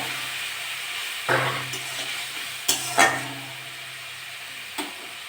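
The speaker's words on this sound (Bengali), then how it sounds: "মশলাটা কষে নেবো, একটু জল দিয়ে দেবো" Spice paste with tomato fries in a pan. A low sizzle runs underneath while a few scraping stir strokes and clatters break in at intervals, near and moderately loud, with no talking.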